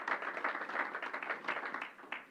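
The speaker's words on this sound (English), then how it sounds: "Let's give him a round of applause." Audience applause at a New York COVID press briefing, steady dense clapping from a crowd that runs through the whole stretch without a break, with a few slightly louder claps near the end.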